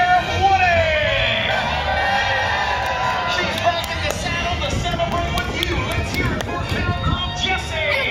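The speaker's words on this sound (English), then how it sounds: "I want you to give some Wild West cheer for Sheriff Woody" A Disneyland crowd cheers and whoops for Sheriff Woody, a loud, dense roar of voices that holds steady throughout, with shouts and whistles rising above the babble and an announcer's voice threaded through it.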